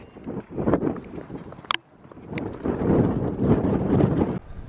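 Cold wind at the Hoover Dam on the Colorado River, a rough low rumble of gusts hitting the microphone, swelling, dropping briefly near the middle, then surging back strong with faint footsteps.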